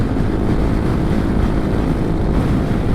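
A Honda Forza 300 scooter engine roars steadily at high revs near its 9,000 RPM red line, a loud continuous drone with heavy wind rush and no voices.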